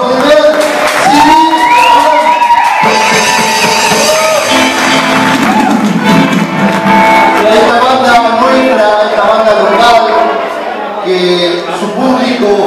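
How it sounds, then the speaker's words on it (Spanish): Audience cheering and applause at a cumbia band's first CD launch in Miami, a loud, dense crowd roar with whoops under music and an announcer talking over the top. "Un fuerte aplauso por su primer CD."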